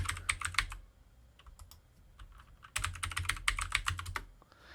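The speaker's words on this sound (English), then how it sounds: "So I can just type materials." Fingers patter on a computer keyboard in two quick bursts of close, crisp key clicks, separated by a short pause of sparser taps, with no one talking.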